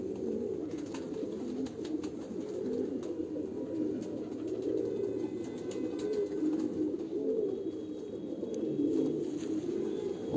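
Pigeons cooing on a rooftop, a continuous low warbling chorus from several birds close by, steady throughout with faint background noise and no talking.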